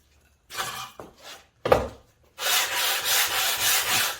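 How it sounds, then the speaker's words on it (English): Abrasive Cubitron disc, 120 grit, sanding the rusty sole of a Bailey hand plane: a few short scrubbing strokes and a sharp knock, then steady close-up rasping friction that swells and eases in waves. "I'm going to use those discs to flatten this plane sole."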